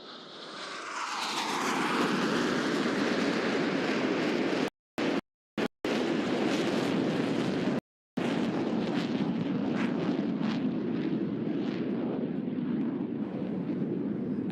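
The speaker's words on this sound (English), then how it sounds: "As each aircraft accelerates to 500 miles per hour, they'll perform a reversal turn back towards the flight line." Military jets roaring past at an air show as they accelerate toward 500 miles per hour and turn back toward the flight line, a loud sustained engine roar that swells up and stays steady, broken by a few brief dropouts.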